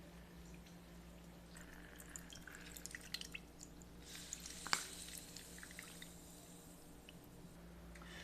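Lemons squeezed on a juicer, quiet wet squishing and dripping of juice with a few small clicks and one brief sharp knock near the middle, close and faint, no voices.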